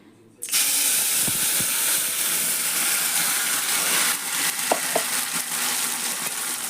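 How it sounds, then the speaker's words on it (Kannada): Home-ground masala hits hot oil with a sudden loud, steady sizzle that keeps hissing throughout, with a few light spoon scrapes near the end, for homemade pasta. "ಇದು ಎಣ್ಣೆ ಒಳಗೆ ಚೆಂದ ಫ್ರೈ ಆಗ್ಬೇಕ್ರಿ"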